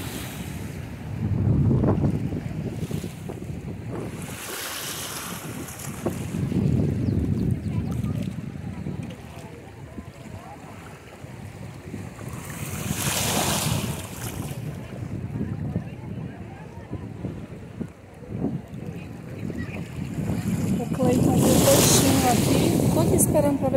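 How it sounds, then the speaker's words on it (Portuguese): Motorboat engines swell and fade as boats pass over water at Ilha do Cardoso, Cananéia, Brazil, mixed with wind gusts and lapping waves, with a voice speaking at times. "Caramba, quanta lancha por aqui,"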